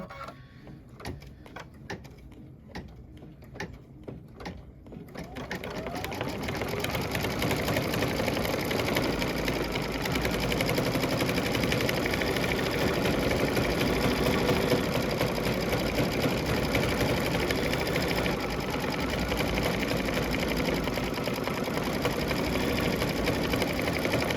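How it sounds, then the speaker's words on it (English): An embroidery machine stitches a pickup truck quilt block, starting after a few seconds of quieter handling and then running loud and steady with a continuous rapid mechanical whir and needle chatter, alone without talk. "this is going to start stitching"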